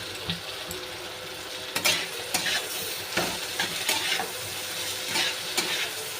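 A fish-egg and tomato mixture sizzles in a pan while a spoon stirs it, making several distinct scraping strokes over a steady frying hiss, close by with no talking.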